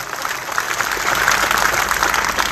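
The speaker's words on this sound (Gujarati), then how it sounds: "એકવાર જોરદાર તાળીઓ પાડો" Crowd at a Thakor community gathering bursting into loud, sustained applause, dense clapping throughout without pause and no speech over it.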